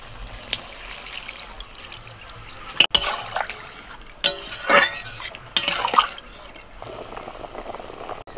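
Water poured into a pan of spiced fried potatoes, with splashing and trickling over a low background sizzle and several loud spatula knocks and scrapes against the pan.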